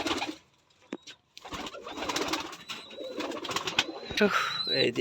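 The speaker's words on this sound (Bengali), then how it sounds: "অনেক সৌন্দর্য কবুতর" Giribaz pigeons coo steadily nearby at a pigeon farm in Rajshahi while people talk over them, with a faint high whine running through the background.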